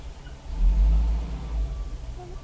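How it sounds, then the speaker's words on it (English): A garbage truck rumbles past on a street, a deep low engine drone swelling and fading, heard from inside a parked car, with no speech. "I'm sitting in my car and it's a garbage truck"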